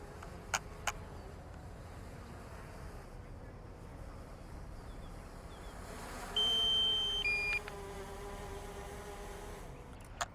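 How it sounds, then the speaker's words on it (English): A drone beeps in a loud sustained electronic tone that steps down in pitch, lasting about a second, amid buzzing motor noise and a few sharp clicks, flying over the River Thames riverside at Thamesmead, South East London. "Before the beeping happens, it will ruin my video then."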